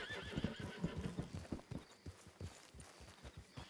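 Horse hooves clip-clopping and a whinny in the Red Dead Redemption 2 video game, close rhythmic hoofbeats with a neigh near the start.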